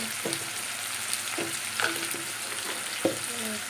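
Food sizzles steadily in a hot pan while being sautéed, with salt and sugar added during the browning; a spatula scrapes and taps the pan a few times over the frying hiss.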